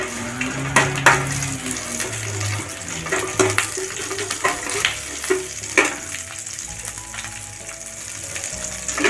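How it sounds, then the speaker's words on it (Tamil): Cumin, cinnamon, cloves and cardamom tempering in hot oil in a kadai, an irregular crackling and popping sizzle with short bursts of spluttering, up close and without speech. "சீரகம், பட்டை, கிராம்பு, ஏலக்காய் எல்லாத்தையும் தாளிக்கிறதுக்கு போட்டுக்கிடுவோம்."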